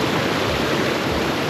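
Rainwater after a storm pours along a hiking trail near Burgoyne Bay on Saltspring Island, where the path has turned into a creek. It makes a steady, loud, close rush with no breaks.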